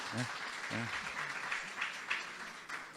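Applause from a lecture audience: a steady, moderately loud wash of clapping that carries through the whole stretch, with a few short voice fragments over it at the start.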